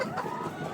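Chickens on a poultry farm cluck in a dense, continuous murmur of overlapping calls, moderately loud and close, with no talk.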